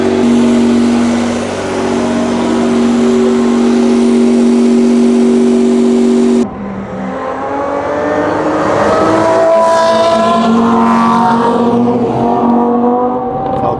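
An Aston Martin Valiant race car idles on the track at Japan's Magarigawa Club racing resort, holding a steady, loud, droning note for several seconds before the engine tone shifts to a rougher, busier sound.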